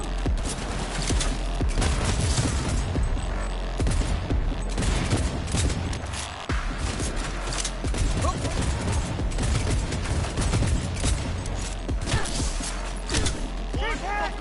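Dense, sustained gunfire from the video game Cyberpunk, with rapid bursts and heavy booms running continuously and loudly throughout, as players shout over the shooting.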